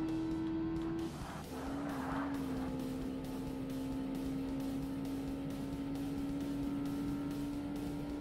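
A race car in the Forza Motorsport game holds a steady high engine drone throughout, with a brief gear change near the start and faint tire noise underneath, loud and continuous with no talk.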